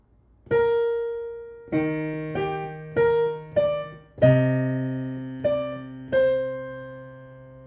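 Piano plays part 2 of the chorus of a song as a slow, easy sequence of about eight separate notes and chords. Each one rings out and decays clearly in a quiet room, and no one speaks.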